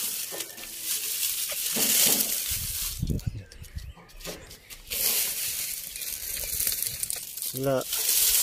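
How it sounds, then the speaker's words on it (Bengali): Dry neem leaves are dropped into a plant pot while setting up a chili seedling, making crisp crinkling and rustling bursts close by, with a brief voice near the end. "নিম পাতা শুকনা নিম পাতা তলে দিয়ে দিচ্ছি"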